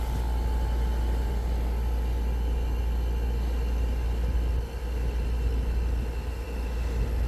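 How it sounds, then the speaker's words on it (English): An Atmos 4.4 RV air conditioner runs with its two fans spinning, giving a steady, loud, continuous whir and low rumble with a faint tonal hum, no voices. "there's two fans in this Atmos. They're both spinning"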